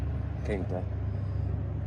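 A Northstar engine with a misfire idles roughly nearby, a steady low drone with slight unevenness, while someone talks over it.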